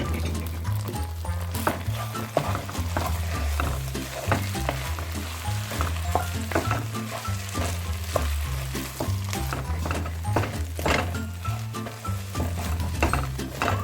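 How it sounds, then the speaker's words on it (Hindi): Beaten eggs stir-fried in a pan for makhandi halwa, a steady loud sizzle with repeated scraping and clinking strokes of a spoon against the pan, close by and without talk. "अब इसको हम तेज़ तेज़ भूनेंगे"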